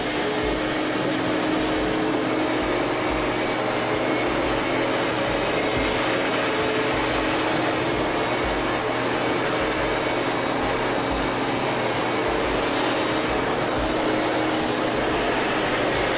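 A Sirena vacuum cleaner lifting pet hair from carpet runs with a loud, steady motor whine and airflow roar, unchanging for the whole stretch.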